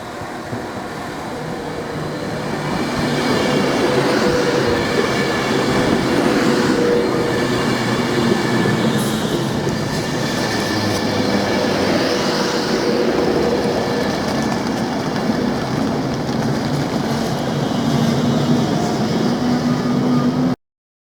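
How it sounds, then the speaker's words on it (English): A train rolls steadily through a London station, a loud continuous rumble of rail carriages with wheel noise and faint squeals, holding at a constant level for the full length after a short build-up. "we'll just wait for the train now"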